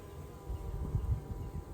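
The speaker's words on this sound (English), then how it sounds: "So, we got a ton of bees down there, and there's a lot." A dense, low buzzing of many honey bees swarms up close around a hive, a steady droning hum with wingbeats rising and falling, and no voices.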